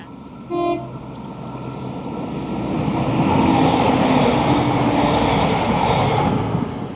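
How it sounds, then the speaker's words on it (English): A short train horn toot sounds at the start, warning ahead of a crossing, then a train on the Furness Line swells and roars past, loud and steady, before easing slightly. "when the train comes past, the driver knows to blow on his horn"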